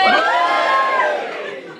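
Loud crowd cheering and whooping from a stand-up comedy audience, a dense burst of mixed voices that starts strong and tapers off over about two seconds.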